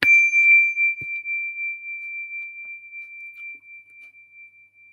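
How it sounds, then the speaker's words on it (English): A meditation bell is struck once, ringing out with a clear sustained tone that slowly fades over several seconds in an otherwise quiet setting. "when you detect the vibration of my bell"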